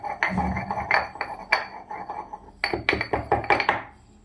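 Nutmeg and cardamom are crushed by hand for kheer, giving a run of sharp, irregular knocks and clinks, close and fairly loud, with a quicker cluster of strikes toward the end.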